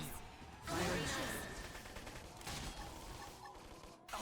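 Rapid gunfire bursts from a battle in the video game Xenoblade Chronicles X sound through dense combat noise and whooshes, with voices and effects layered over them.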